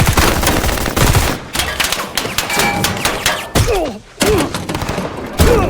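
Rapid gunfire bursts and heavy thuds from a Jack Reacher movie shootout, loud and close, with shots cracking in quick clusters and brief gaps between volleys, a short scream-like cry rising in the middle.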